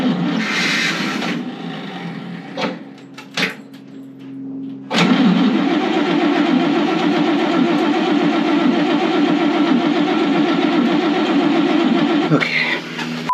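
An engine cranks steadily for several seconds without catching, its starter whirring loud and continuous after a few shorter, choppy attempts.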